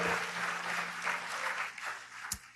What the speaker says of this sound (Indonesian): Yang percaya beri tepuk tangan buat Allah kita.